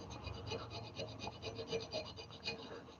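Light rasping strokes of a file across a hand-forged hammer head under almost no pressure, a steady soft scratching with gentle repeated rhythm, close and fairly quiet.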